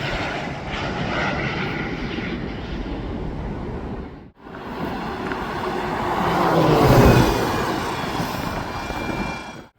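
An Aer Lingus airliner's engines roar at Birmingham Airport, a loud, steady jet rumble that dips briefly midway and then swells again, heard alone without talking.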